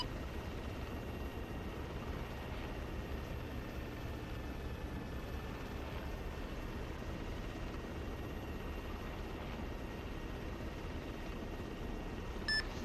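Helicopter in the ArmA 3 video game taking off and flying, heard as a steady, even rotor and engine drone that holds constant throughout with no voices.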